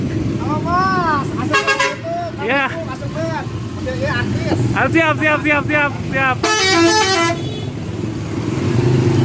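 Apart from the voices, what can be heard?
Laju Utama bus horn and engine passing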